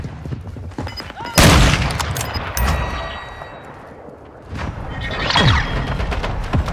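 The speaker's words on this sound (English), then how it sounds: "Friendly mortar strike on the way." Friendly mortar strike in Call of Duty Modern Warfare 2, with a loud booming blast followed by scattered gunfire and a second swelling explosion amid battlefield noise.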